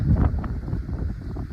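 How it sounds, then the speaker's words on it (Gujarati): Strong wind buffets the microphone near a hillside temple flag in rural Jamnagar, giving a brief, close, low-pitched rumbling gust with no talk. "બહુ પવન છે"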